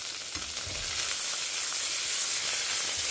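Two slit green chilies sizzling in hot oil in a pan for Karnataka wedding-style thili saaru rasam, a steady close frying hiss that grows slightly louder and stays alone throughout.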